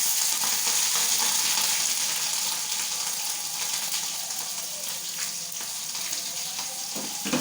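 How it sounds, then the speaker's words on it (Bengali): Green chillies dropped into hot oil with nigella seeds and dried red chillies, a loud, dense sizzle that crackles close up throughout, with light stirring and no speech. "আর দিয়ে দিচ্ছি কাঁচা লঙ্কা।"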